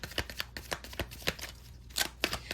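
Tarot cards are shuffled close by in quick, uneven bursts of soft riffling and flicking, faint and without talk.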